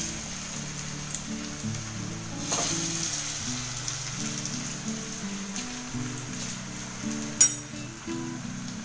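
Alu vadi, rolled taro leaves, fry in shallow oil with a soft continuous sizzle that resembles light rain, together with a low tonal hum and a sharp knock near the end.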